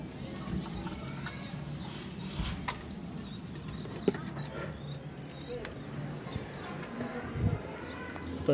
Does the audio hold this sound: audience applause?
no